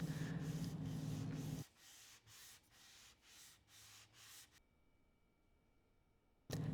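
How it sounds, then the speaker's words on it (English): Hand sanding the radius of a guitar fretboard: a continuous scratchy rub at first, then a series of short rhythmic back-and-forth strokes, close but quiet, with no voices. "I'll sand the radius down just to get rid of any machining marks"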